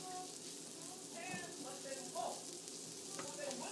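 Food sizzles steadily on a hot griddle set to about 350 degrees, a continuous close frying hiss with faint clicks and someone talking over it.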